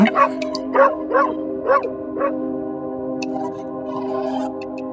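In the Moth Lake horror video game, a dog lets out a run of five rhythmic barks and yips, followed by quieter whimpering sounds and faint ticking, with no speech over it.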